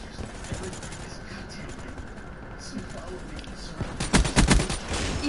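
Bursts of automatic gunfire in the Black Ops 3 beta multiplayer, a steady fusillade throughout that swells louder and denser near the end, with players talking over it.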